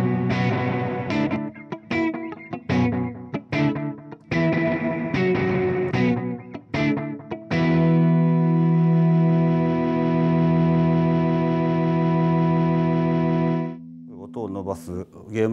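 Electric guitar notes picked in a quick rhythm through short delay and echo pedals, then a long sustained chord ringing out with repeating echoes and reverb tails before a few final plucks.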